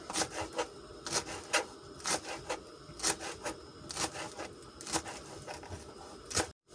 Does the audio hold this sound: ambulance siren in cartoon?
no